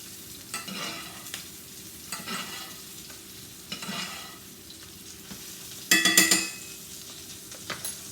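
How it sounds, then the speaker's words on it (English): Steak sizzling steadily in a hot pan while a spoon bastes the top, with soft scraping strokes and a louder burst of spattering near the end; no talking. "Steak's cooking. Gonna take a spoon. I'm gonna baste the top of it."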